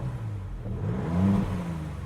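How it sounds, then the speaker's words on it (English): A Maserati MC20 engine starting and revving, a mid-pitched rising rev that peaks then settles back to idle, close and fairly loud with no talking. "I'm going to start the car for you guys as well"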